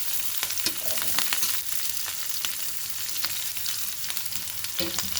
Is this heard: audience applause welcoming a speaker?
no